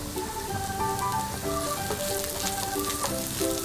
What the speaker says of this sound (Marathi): कांदा तेलावर चांगला असा परतवून घ्यायचा, कलर बदलेपर्यंत।